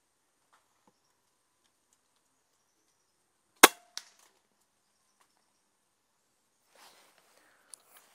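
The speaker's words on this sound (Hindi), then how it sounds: "one more shot" Diana Outlaw Gen2 air rifle firing once outdoors, a single sharp loud crack followed by a faint distant impact tick in otherwise near silence.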